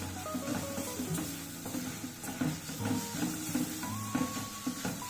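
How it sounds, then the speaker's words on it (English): Stir-fry vegetables sizzle in a pan, with a spatula scraping and stirring in a busy, close rhythm over a constant frying hiss. "Stir it once again."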